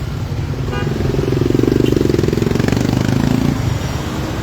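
Busy traffic at a street intersection in Pematang Siantar, a steady loud rumble of engines with a motorcycle revving up close, passing and fading, a near continuous roar.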